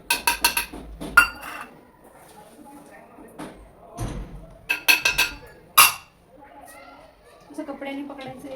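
A rolling pin stirs two cups of flour into boiling water in a pot for modak dough, producing scattered knocks, clinks and dull thuds against the vessel, close and uneven, with quiet gaps between bursts.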